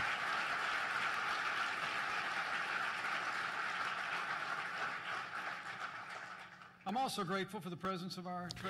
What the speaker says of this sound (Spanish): Vamos a darle a estos departamentos y al gobierno de México un vigoroso aplauso.